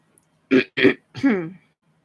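Three short, harsh coughs in quick succession, the last one drawn out and raspy, close to the listener in a quiet room.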